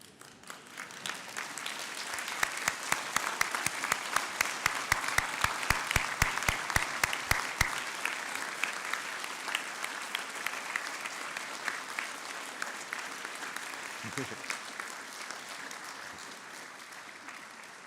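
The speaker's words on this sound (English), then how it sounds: "give those families a well-deserved round of applause" Families of newly conferred graduates give sustained applause at a college conferring ceremony in a large hall, steady dense clapping with a few sharp distinct claps standing out early on.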